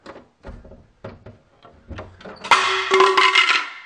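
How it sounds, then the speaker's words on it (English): A door slams shut with a sudden loud crash, followed by the clatter of an item hanging on it falling down, preceded by several quieter knocks and handling sounds. "if I slammed the door shut,"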